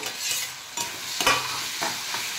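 Cut tomato stirred into button mushrooms frying over high flame: a spatula scrapes and stirs in several short strokes over a steady close-up sizzle, with no talk.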